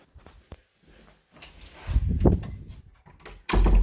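A house door is opened and closed during a property inspection, with soft clicks and handle rattles followed by thuds and a closing bump near the end, close and moderately loud, with no talk.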